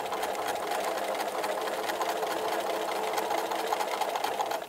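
A sewing machine stitches the seam of a fabric gift bag with a fast, even mechanical whir that runs steadily close by and then stops abruptly at the end.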